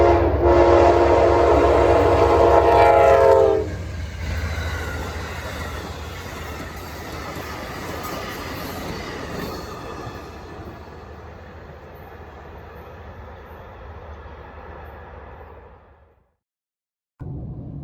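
Amtrak Palmetto 92 passenger train passes the Ravenel depot in South Carolina, opening with a loud, close horn blast, then a long steady rumble and clatter of cars rolling by that fades out near the end.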